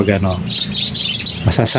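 A pet bird gives several close, bright chirps and tweets, with a quick pair of sharp calls near the end.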